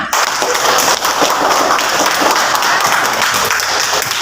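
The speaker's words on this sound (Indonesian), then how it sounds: "Nah, tepuk tangan buat kita semua." A classroom of students clapping together during a lesson; loud, close and continuous applause that holds at an even level for a few seconds.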